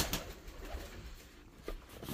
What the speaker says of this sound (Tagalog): Ano yata yun yung tinatawag nilang Rubin na ibon.